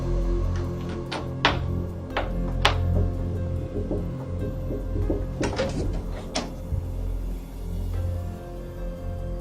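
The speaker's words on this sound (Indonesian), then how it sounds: "Suara itu bunyi lagi dan gagang pintunya dimainkan." A door handle rattles and clicks inside a house, heard as several sharp metallic knocks and jiggles over a steady low hum, close and moderately loud, with no talking.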